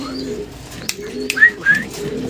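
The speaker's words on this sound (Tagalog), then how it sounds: "Tapang niya talaga mga kalapatids." Racing pigeons coo softly nearby, with low rolling coos and a couple of brief higher chirps over a few seconds.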